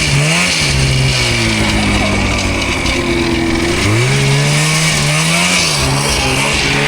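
A snowmobile engine revs loudly and continuously in the mountains, its pitch rising and falling through several throttle pulls, close by and dominating the scene.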